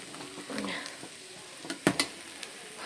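Tempering sizzling in a pan for a green gram (hesaru kaalu) dish, a soft steady frying hiss with a spoon stirring and a couple of sharp clinks against the pan, close and without talk.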